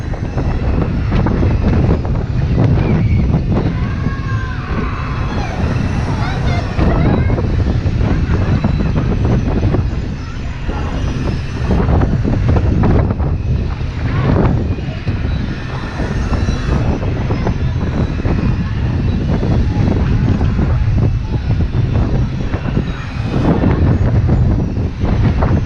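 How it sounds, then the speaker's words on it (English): Strong wind batters the microphone on a ride at an amusement park, a loud, constant rumbling buffet with gusty surges throughout, nearly drowning faint background voices. "Bit windy on here."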